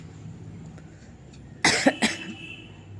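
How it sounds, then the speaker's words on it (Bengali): A woman with a lingering cough coughs several times close by in a quick cluster of two or three sharp bursts, against a quiet indoor room. "কাশিটা এখনও একটুখানি রয়ে গেছে পুরোটা যায়নি"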